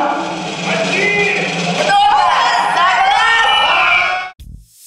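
Loud ovation at a winner announcement, with a crowd cheering, whooping and shouting in a sustained roar that swells after a brief musical sting and then cuts off abruptly near the end.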